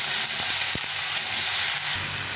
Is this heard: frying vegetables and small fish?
yes